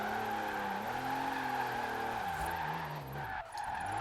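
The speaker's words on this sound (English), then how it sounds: "As weird and as bad as that engine sounds, not being revved out all the way when you're sliding" Diesel drift car in Forza Horizon 4 sliding at moderate revs, a steady droning low engine note with continuous tire skid noise running throughout, loud and close, briefly dipping near the end.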